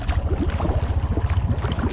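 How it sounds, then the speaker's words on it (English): A Honda Rubicon 520 ATV idles with a steady, close, low throbbing rumble and a faint hiss on top, running without the Copper 90 additive. "It's idling better without the copper 90."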